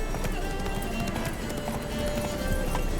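Hooves of Geralt's horse Roach clip-clopping at a gallop in The Witcher 3: Blood and Wine, a steady rapid beat under loud game music and shouted character dialogue.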